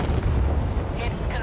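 In the naval combat game Force of Warships, a missile strikes its target with a heavy, rumbling low boom that rolls through the whole moment, with a voice speaking over it.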